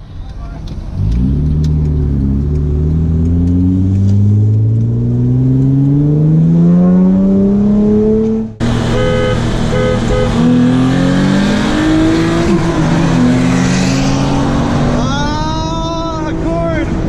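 A 430-horsepower 2017 Audi A3 Quattro races a Honda Accord V6, with loud engine revving through rising gear pulls, a sharp shift break midway, then another climbing rev close by.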